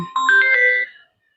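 A single short electronic phone ringtone plays, a bright melodic chime lasting about a second before cutting to silence.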